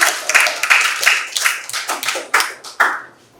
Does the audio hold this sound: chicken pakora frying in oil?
no